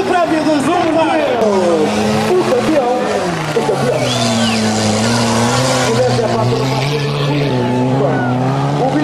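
Stock car race cars roar around the Cabeço track in 2008, loud engine drones rising and falling as they pass close by, with an excited commentator talking over them throughout.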